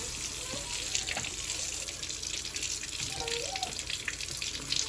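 Cold tap water gushes steadily into a kitchen sink as oranges are washed, a continuous close splashing stream with faint voices in the background.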